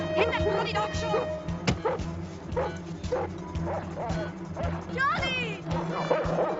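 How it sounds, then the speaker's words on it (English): A dog yelps, barks and whimpers amid a tense confrontation, the high cries repeating irregularly over constant background noise while people talk and shout nearby. "Hit that bloody dog, Sean!"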